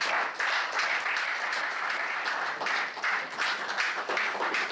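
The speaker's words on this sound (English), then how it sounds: "Ladies and gentlemen, please a round of applause for the one and only Dr. Stephen Akintayo." Audience applause at a real estate book launch dinner, steady dense clapping with some louder individual claps, sustained throughout.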